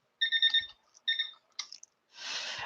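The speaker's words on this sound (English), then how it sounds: "That was the timer." A timer alarm beeps twice in short electronic bursts, followed by a brief chirp and a burst of noise in an otherwise quiet room.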